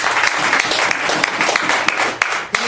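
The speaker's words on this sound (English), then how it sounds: "Everybody give Jordan a round of applause" A room full of people at a BNI business networking meeting in Decatur, Atlanta applauding steadily, dense clapping that carries on for a few seconds with no voices over it.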